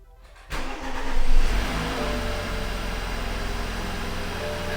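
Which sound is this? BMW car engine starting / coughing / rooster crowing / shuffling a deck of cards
BMW car engine starting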